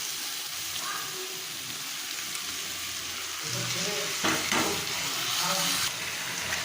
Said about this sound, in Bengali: এবার মশলা সবজির সাথে চাল ডালটা ভালো করে কষতে হবে।